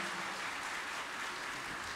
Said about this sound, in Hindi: एक बार जोरदार तालियों के साथ हम सब पूज्य गुरुदेव का